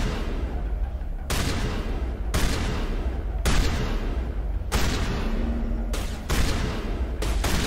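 Shotgun fire in Mass Effect Legendary Edition combat, a rapid string of heavy booming blasts, roughly one each second, loud and close with reverberant tails over constant battle noise.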